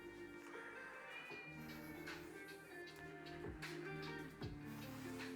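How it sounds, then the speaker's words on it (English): A demanding pet cat meows repeatedly in a home kitchen, several drawn-out pitched cries in a row, fairly close and clear over a quiet room background. "Very demanding cat."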